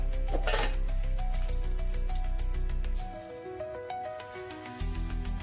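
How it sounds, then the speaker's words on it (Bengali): Mustard seeds and cumin tempering in hot oil for a Bengali besan and potato curry, giving a steady loud sizzle with light clinks of a pan and utensils, quieting midway before rising again. "ফোড়নটা আমার ভাজা হয়ে গেছে"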